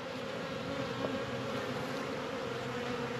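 A steady drone of honey bees buzzes around a swarm box, dense and continuous at low level, with no voices.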